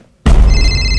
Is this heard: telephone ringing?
yes